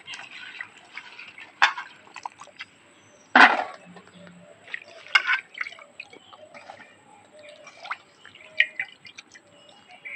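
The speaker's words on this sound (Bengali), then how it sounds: "জলে তিন চারবার পাঁচবার ভালো করে ধুয়ে নেবো" Garden-grown taro flowers washed by hand in water, with intermittent drips, splashes and handling knocks, close and fairly clear, irregular bursts separated by quieter gaps, no speech.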